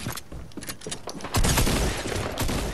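Rapid gunfire in a video game, bursts of sharp shots crackling close and loud, growing denser and heavier in the second half with no speech over it.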